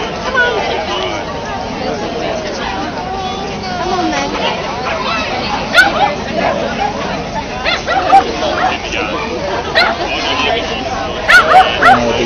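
Dogs of all shapes and sizes bark, yip and whimper at an RSPCA Million Paws charity walk in Brisbane, with several sharp barks over a steady outdoor crowd babble and people chatting nearby.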